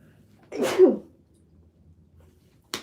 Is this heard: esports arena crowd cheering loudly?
no